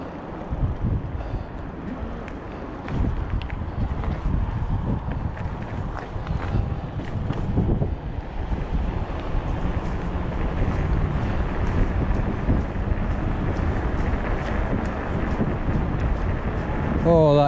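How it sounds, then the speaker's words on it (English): Cold headwind buffets the microphone on a bike ride along England's south coast, a loud, continuous low rumble of wind noise that swells and gusts throughout, with no clear talk. "Oh, that headwind's freezing."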